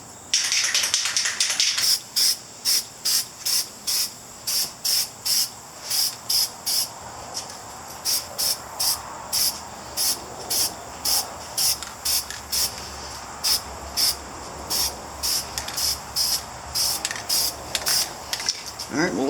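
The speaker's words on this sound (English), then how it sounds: "Let's spray down some white." Repeated short hissing bursts from a spray paint can spraying white paint onto motorcycle parts, pressed again and again in a steady rhythm, close by and fairly loud.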